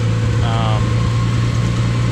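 A mowing tractor's engine runs at a steady low drone, loud and continuous throughout, with no change in pace.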